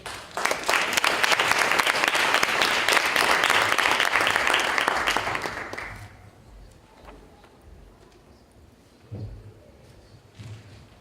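Loud, sustained applause from a conference audience welcoming Rick Wade of the U.S. Chamber of Commerce, filling the room for about six seconds before fading into quiet room noise with a few stray claps.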